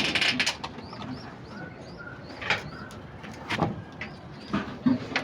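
Pigeons in a loft call with short, faint chirping coos over a quiet background, with a few soft knocks and shuffles nearby.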